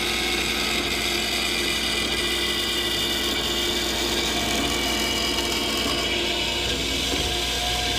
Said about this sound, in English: So right now I will be cutting a piece to support the bracket.